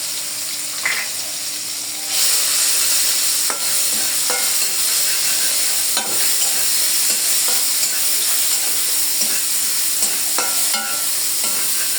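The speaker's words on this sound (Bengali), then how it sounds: "এটা পানিগুলো যে পর্যন্ত না শুকাবে সে পর্যন্ত নাড়ার মধ্যে রাখতে হবে" Cubed meat fries with chopped ginger and garlic in a kadai, a loud, steady sizzle with scraping stirs throughout and no voices.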